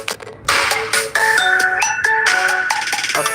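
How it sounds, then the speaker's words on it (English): A mobile phone sounds loudly and close by, playing a bright, repeating electronic ringtone melody with sharp note changes that runs through the whole clip without talking. "My phone's buzzing."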